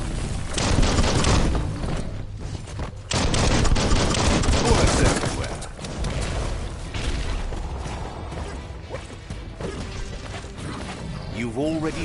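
Dense, rapid gunfire from the video game Biomutant, with bursts of shots and mechanical clatter running almost nonstop over a heavy game soundscape, loud and close throughout.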